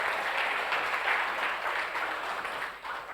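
An audience at a national discussion gathering claps steadily, a dense, even wash of many hands heard from across the room, tapering slightly toward the end.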